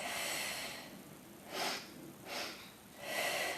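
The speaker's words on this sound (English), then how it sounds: "2 sniffs here." Three short, quick nasal sniffs taken as breaths during a Pilates exercise with a towel and weights. They come at even intervals, sound close and fairly soft, and stand alone over a faint background hiss.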